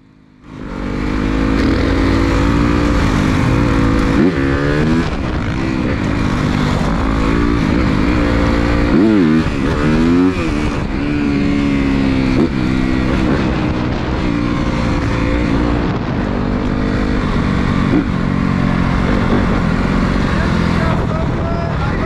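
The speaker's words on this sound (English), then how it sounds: "These dirt bikes are a little bit more complex to wheelie in" Several dirt bikes rev and ride wheelies on a city street ride-out, with loud engines that rise and fall continuously close by and voices talking over the roar throughout.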